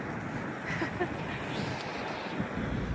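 Wind buffets the microphone in a constant low roar, gusting slightly, with no other clear sounds, on a sunny riverside embankment walk in Kyiv.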